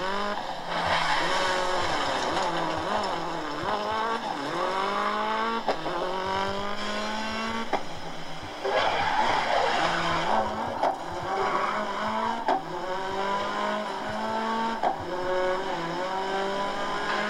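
A race car in the video game GRID skids and squeals its tires repeatedly, with rising and falling engine revs in waves over a steady loud mix, and no talking.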